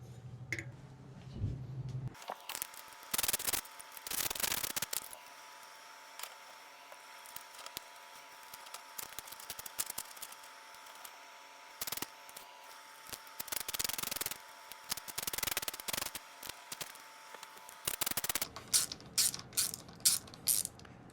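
Screws on a Bonnell 775 MX bike being tightened in a cross pattern, producing repeated close ratcheting and mechanical clicking bursts separated by short pauses, with a faster run of clicks near the end.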